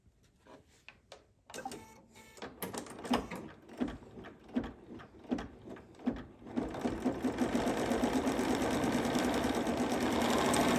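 An embroidery machine sews tack down stitches for a snow-themed hot pad, giving quiet irregular mechanical thumps at first, then a steady faster whirring stitch rhythm that runs on to the end.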